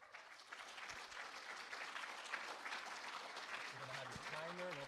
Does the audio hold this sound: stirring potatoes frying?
no